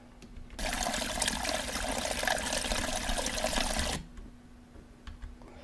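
A broadband rush of flowing water, like pouring or a flush, bursts in loud and steady for about three seconds while an audio track is soloed in an editing mixer, then cuts off abruptly to a low hum.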